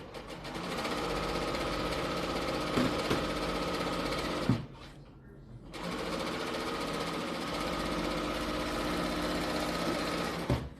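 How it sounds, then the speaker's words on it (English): A serger sewing machine runs in fast, steady mechanical chatter close by, breaking off for about a second partway through before starting up again, with no speech. "as far as sergers go, this one's actually pretty quiet."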